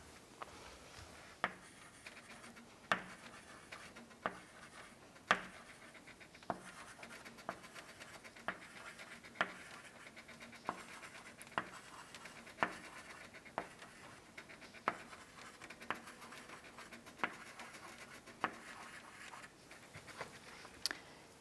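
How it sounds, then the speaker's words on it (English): A pen or marker is drawn across paper by hand to make a square, giving a soft continuous scratching with regular short strokes and taps about once a second, fairly faint and steady with no talking. "So if I draw a square,"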